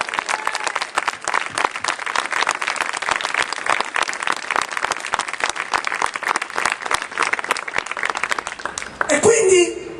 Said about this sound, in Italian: Se tu lo credi facciamo un forte applauso a Cristo